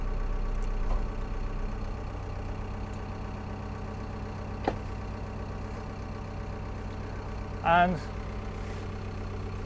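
The engine of a dozer fitted with a Topcon machine control system drones steadily at idle in the field while someone talks. There is a brief squeal near the end.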